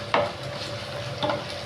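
Cumin seeds fry in a pan for a dosakaya chutney, with a steady low sizzle and a couple of sharp stirring scrapes of a utensil against the pan.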